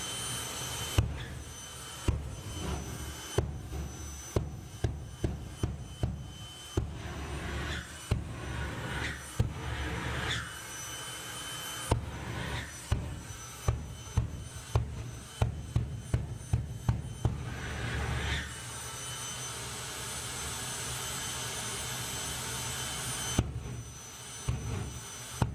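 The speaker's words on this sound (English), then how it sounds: "Here we go, Martin Hill with Fire Force 3 then. The afterburner show" Fire Force 3 jet car doing an afterburner show at a Santa Pod Raceway drag strip during Bug Jam 2022: loud, sharp bursts come in rapid clusters over a steady roar, broken by short pauses.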